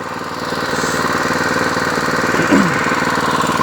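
A Predator 6.5 hp engine fitted to a John Deere 826 snowblower idles close by, a loud, steady chugging putter with rapid even firing pulses and a brief mechanical whine partway through, no talking.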